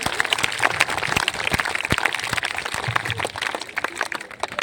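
Students and guests at an L.A. School Jhajjar prize ceremony clap hands raised overhead, a lively, uneven patter of sharp individual claps close by, continuing throughout.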